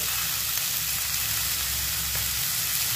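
Chopped carrot and potato pieces fry in a pan with a steady, loud sizzle throughout, close up and without speech.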